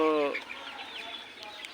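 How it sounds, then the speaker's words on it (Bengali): Farm chickens clucking, one loud close cluck at the start followed by faint scattered clucks and background noise from a poultry shed. "দুইটা মুরগিতে এক কেজি হবে"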